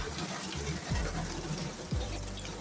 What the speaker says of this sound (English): As usual, it's rain.